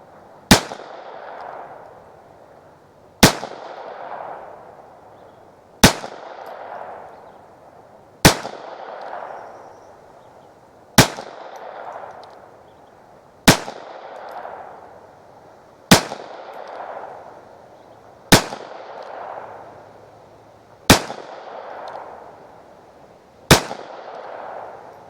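Winchester Super X .22lr rounds fire one at a time at a steady pace of roughly one every two and a half seconds, ten sharp cracks each followed by a metallic ring off a steel target, with no talking.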